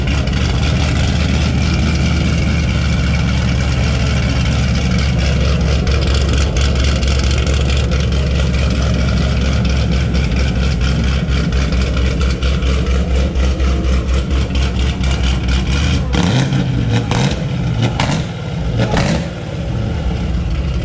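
An 800-horsepower car engine roars loud and close with a heavy, low, steady rumble for most of the clip, then breaks into a few sharp revving bursts near the end.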